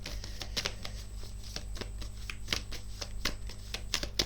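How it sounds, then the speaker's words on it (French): A deck of tarot cards is riffled and shuffled by hand at close range, soft quiet flutters and taps repeating in quick bursts. "j'avais dit que je faisais un petit tirage pour finir"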